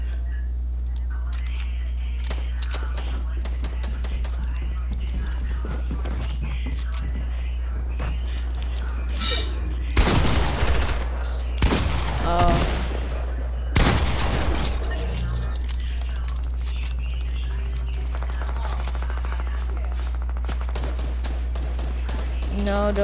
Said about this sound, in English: Someone has a strong pump shotgun.